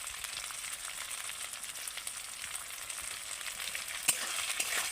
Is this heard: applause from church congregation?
no